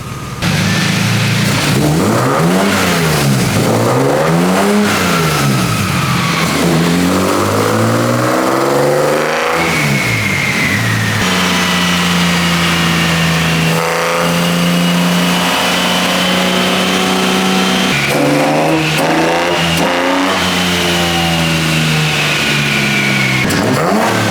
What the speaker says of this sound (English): I always feel like cars sound different on ethanol.